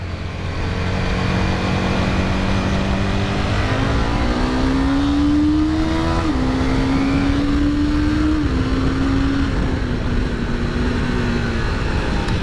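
Motorcycle throttled and revved while riding, a loud continuous engine roar under wind noise with pitch climbing in steps through several gear changes.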